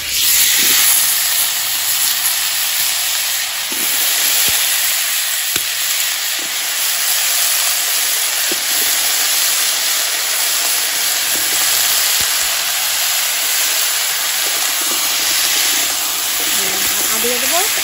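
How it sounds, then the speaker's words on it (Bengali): Potatoes and cauliflower fry in a shallow layer of oil for a winter cauliflower curry, giving a loud, steady hiss and sizzle throughout, with faint clinks here and there. "আলুগুলোও ভাজবো"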